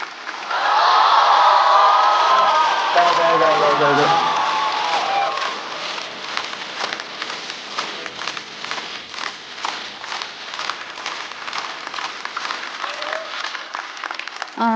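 Loud audience applause and cheers fill a stand-up comedy show as a performer is called to the stage, the clapping fading to a steady patter over several seconds, with a brief spoken word partway through.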